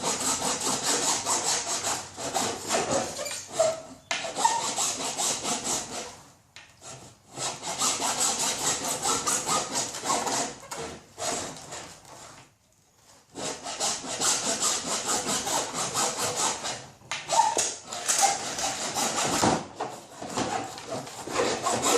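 Hand saw cutting through wood in long rhythmic back-and-forth strokes, loud and close, with brief pauses between bursts of sawing.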